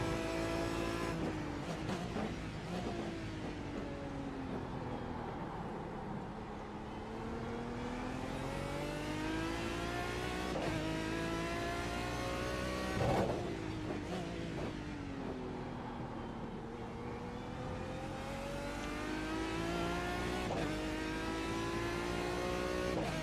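Aston Martin DBR9 GT1 race car in the iRacing simulator, its engine rising and falling through repeated gear changes, a loud continuous snarl with sweeping revs and no talk.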